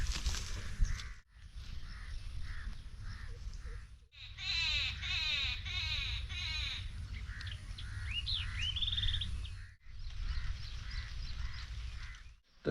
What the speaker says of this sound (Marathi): या नारळ झाडावर एक पक्षी किलबिलाट चालू आहे